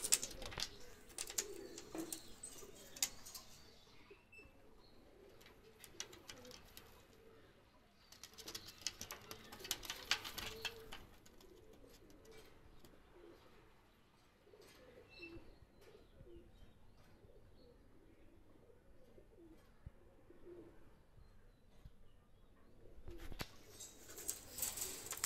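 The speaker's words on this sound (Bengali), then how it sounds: "তো রানিং কবুতর, দুইটা কবুতর দেখেন, কাছ থেকে দেখেন" Pakistani high flyer pigeons, a pair of running birds, coo softly and repeatedly at close range, with intermittent rustling and patter between the calls.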